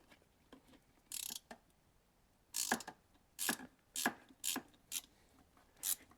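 Ratchet clicking in short bursts while screwing an oil pressure plug back into an LS engine, a series of quiet, close ratcheting strokes separated by brief pauses.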